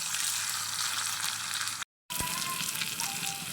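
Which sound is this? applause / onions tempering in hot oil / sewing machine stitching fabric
onions tempering in hot oil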